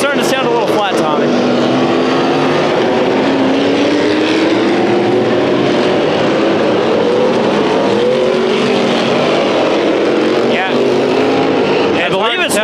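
Engines of outlaw figure 8 race cars at a speedway roar continuously and loudly, with one engine sounding flat, their pitches sliding up and down as cars pass. A commentator talks over the noise.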